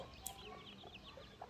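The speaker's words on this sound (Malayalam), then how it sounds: "ഇതാണ് ഇതിൻ്റെ തള്ളക്കോഴി" Soft, faint clucking of a native mother hen, a few short low calls with small peeps from newly hatched chicks in a quiet setting.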